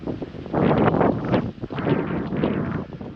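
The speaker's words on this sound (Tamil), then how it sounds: "செம காற்று." Strong gusting wind buffets the microphone in two long roaring surges, loud and broadband, on a hill road near Chikmagalur while travelling by jeep.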